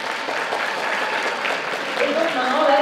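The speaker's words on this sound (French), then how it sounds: "on peut encore l'applaudir bien fort" A crowd at the Japan Impact 2018 cosplay contest claps for a cosplayer, with dense, steady applause throughout. Voices and a faint whistle-like tone come through near the end.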